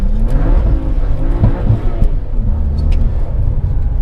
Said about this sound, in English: Ooh, that was the rev limiter